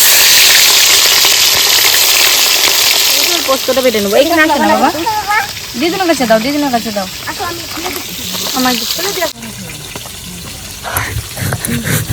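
Fish frying in hot oil while making mustard rohu, a steady broadband sizzle running throughout under an overlapping voice that talks through much of the middle, with a brief shift in tone near the end.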